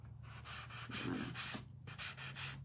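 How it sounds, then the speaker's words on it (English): A small sander lightly works over a wooden pumpkin-and-crow craft piece, giving short close bursts of soft rasping in a quick on-off rhythm. "I'm gonna get my other little sander and I'm gonna lightly"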